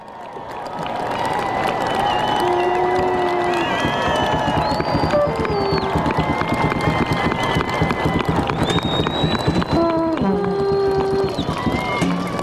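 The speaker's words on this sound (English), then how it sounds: "students, let's give them a big round of applause" A large graduation crowd applauds and cheers for parents and families at Santa Fe High School, a dense, steady roar of clapping and shouts lasting several seconds, with whistles and voices rising above it.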